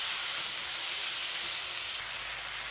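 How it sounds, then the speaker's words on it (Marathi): Flat green bean pods (val shenga) roast in hot oil in a pan, giving a steady, close hiss and sizzle that holds evenly throughout without a break. "या शेंगा आपल्याला अशा छान तेलामध्ये भाजून घ्यायच्या"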